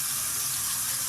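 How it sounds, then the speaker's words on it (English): Tap water runs steadily into a sink while plantain is washed, a close, constant splashing rush with no break across the short stretch. "I'm going to be washing my plantain."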